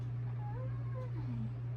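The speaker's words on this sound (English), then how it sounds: "Hello, kitty cat!" A pet cat gives a few soft, drawn-out meows over a steady low hum, faint and close, with no talk.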